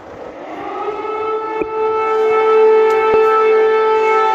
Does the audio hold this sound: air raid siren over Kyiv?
yes